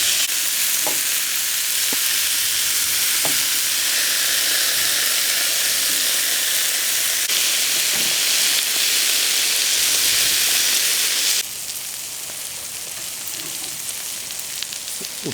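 Pumpkin sizzles in hot duck fat in a pan, a loud, steady frying hiss that continues throughout and drops slightly in intensity near the end.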